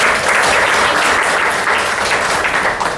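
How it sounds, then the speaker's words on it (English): Loud, continuous applause from a large audience at an inauguration event, greeting a company CEO as he is welcomed to the stage; dense and unbroken from start to finish. "a huge round of applause for him"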